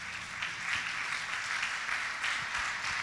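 A church congregation applauds during a Portuguese-language sermon, a continuous wash of clapping with no talk over it, moderately loud.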